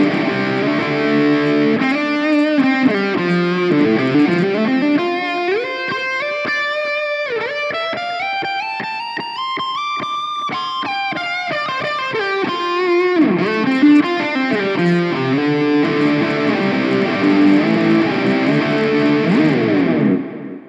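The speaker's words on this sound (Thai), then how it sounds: "นี่ก็คือเสียงจากแอมป์เล็กๆแล้วก็จ่อไมค์แค่นี้เลยนะ" An electric guitar played through a preset on a NUX Mighty Lite BT MKII mini amp, miked close in a room: a continuous run of distorted, effect-laden notes and bends with rising and falling phrases, loud and steady for about twenty seconds.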